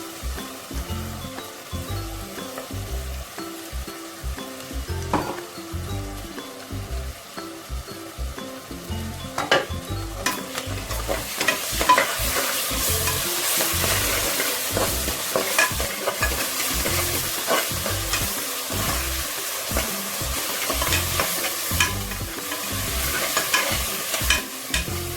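Ginger and garlic sauté in hot oil for mushroom biryani, a continuous close sizzle that grows louder midway, with rhythmic stirring scrapes throughout and no talk.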